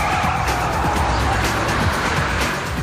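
A car skids and roars during evasive driving in a hostage rescue exercise, with loud continuous engine and tire noise that stays close and steady throughout.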